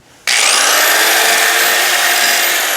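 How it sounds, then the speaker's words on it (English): A power sander starts abruptly after a brief quiet moment, then runs loud and steady with a harsh, abrasive whine, sanding paint on an Oklahoma Joe's Highland smoker. "So I'm sanding all this down."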